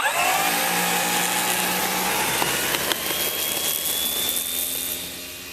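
An FMS FW-190 Focke Wulf RC model plane flies overhead with its gear down on a slightly breezy day. Its whining motor drones loud and steady, the pitch sliding as it climbs and dives, then fading slightly at the end.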